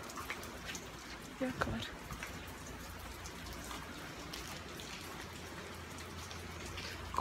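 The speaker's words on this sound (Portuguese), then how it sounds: "tá muita chuva" Heavy rain pours steadily as a dense, even hiss with scattered drops and spatters throughout, and someone speaks briefly over it.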